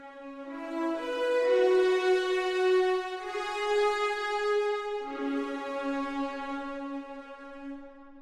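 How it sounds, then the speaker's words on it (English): Sustained orchestral brass and strings from the SSO Tutti sample library swell through a slow chord progression, smooth and full, with gentle rises and falls in level and no talking. "So this is the brass and strings, and this sounds like this."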